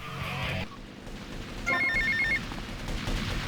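A telephone rings in Grand Theft Auto: Vice City at the mansion, a bright electronic trill that bursts out in a short burst over steady game background noise, with no speech.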